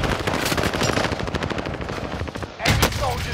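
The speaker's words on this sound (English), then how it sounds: "Enemy soldier nearby. Taking fire." Rapid automatic gunfire in a helicopter combat video game, loud and continuous with dense rattling bursts, then a heavier blast near the end.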